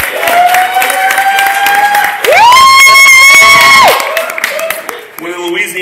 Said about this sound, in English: Clap if you're from the north side.